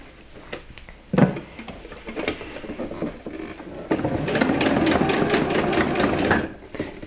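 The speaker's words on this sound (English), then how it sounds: "basically we're just sewing along that edge" A sewing machine stitches along the fabric edge of a scrunchie, starting with a few short bursts and then settling into a steady, close whirring run with no talk over it.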